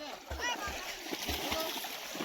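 People bathe in a muddy pond, sending up a few close splashes of water while voices talk over them.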